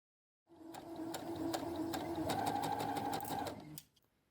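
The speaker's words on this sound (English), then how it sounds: "When you sew, pivot to that little corner where the pocket meets the skirt." A domestic sewing machine runs in one steady three-second burst, stitching a dress pocket seam near the skirt, with a rapid mechanical whir and clicking needle rhythm, close and clear.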